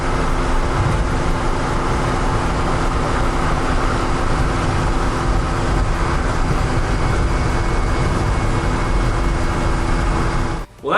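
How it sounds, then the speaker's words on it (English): Cabin of a stripped BMW 330ci race car fitted with eBay headers, cruising at about 50 mph: a loud, steady drone of engine, exhaust and road noise that holds constant throughout, ending in a brief dip and bump, with no talking. "And then again, we'll be taking this car up to about 50 miles an hour."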